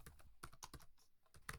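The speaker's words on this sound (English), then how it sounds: "I type Azagaya" Rapid keystrokes on a computer keyboard, several sharp clicks in quick uneven bursts with short pauses, close and fairly quiet with no voices.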